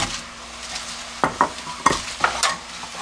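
Sliced lotus root stirred into bubbling syrup in a pan over heat for gangjeong, with a steady sizzle and several sharp scraping stirs of a utensil against the pan.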